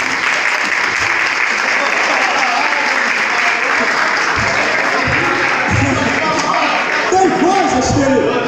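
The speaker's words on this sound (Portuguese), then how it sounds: "vale um aplauso?" Audience at a motivational talk bursting into loud, dense applause that carries on steadily throughout, with crowd voices and shouts mixed into the clapping.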